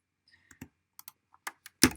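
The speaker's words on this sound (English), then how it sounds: "I press the C button." A handful of separate computer keyboard key presses while editing footage in Premiere Pro, close and fairly quiet, with gaps between taps and a louder final key strike.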